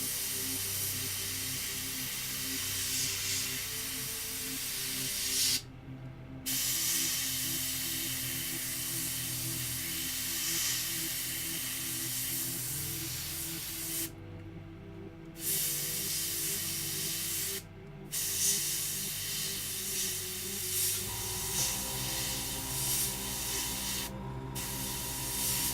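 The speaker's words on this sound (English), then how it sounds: "Nice thing about a dual action airbrush." A dual action airbrush sprays paint while lava bases for miniatures are worked on, a close steady hiss that cuts off abruptly several times and resumes, the pitch and pressure shifting slightly between passes.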